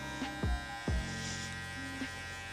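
Electric hair clipper buzzing steadily with its lever open while cutting a mid drop fade, a close, constant motor whine with a few brief bumps as the blade meets the hair.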